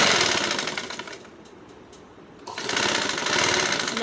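A sewing machine stitching the leg of a child's pajama, a close, steady rapid mechanical whir that slows and quiets briefly in the middle before running at full speed again.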